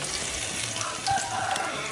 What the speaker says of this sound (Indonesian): Ini mau kita goreng, cara goreng juga sama seperti tadi, nggak usah terlalu dibolak-balik